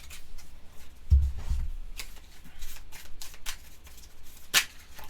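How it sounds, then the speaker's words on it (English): A deck of board game cards for Sentinels of the Multiverse gets shuffled, giving soft riffling and sliding rustles with a few sharper snaps, quiet and close with no talking. "Plus, we now shuffle the trash back into the deck."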